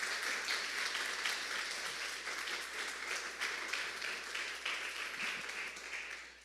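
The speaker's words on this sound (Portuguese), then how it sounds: "Então eu gostaria que você desse uma salva de palmas agora" A church congregation gives a round of applause glorifying God, a quiet, fairly distant wash of many hands clapping that runs steadily and tapers slightly at the end.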